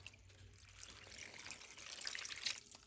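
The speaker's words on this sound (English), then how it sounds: "I'm going to add some water" Water is poured into a big skillet of sliced squash and onions, a steady soft trickling and splashing that swells toward the end, with no talking.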